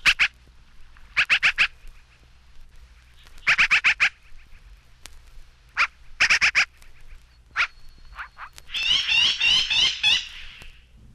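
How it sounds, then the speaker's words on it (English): American magpie calls in a series of harsh, rapid chattering bursts, loud and close, separated by short pauses, ending in a longer raspy rattling phrase. "159, American Magpie."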